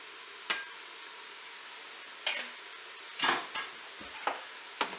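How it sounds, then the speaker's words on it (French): Broccoli and onions being stirred in a Cookeo pot, a quiet background sizzle punctuated by a handful of distinct scraping and clattering strokes of the utensil. "Je mélange."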